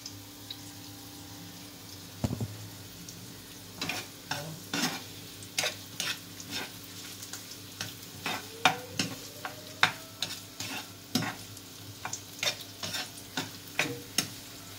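Fried bihon noodles being sautéed and stirred in a frying pan, with a low sizzle under repeated scraping and clacking strokes of the utensil, close and steady throughout.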